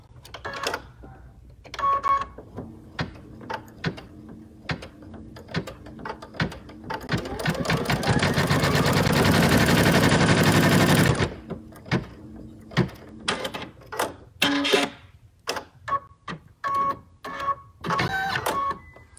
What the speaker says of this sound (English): we're just going to put that right back in the machine and stitch